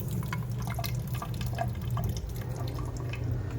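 Water drips and trickles steadily while hatched brine shrimp are filtered to separate them from eggshells, a close run of small splashes over a low continuous hum.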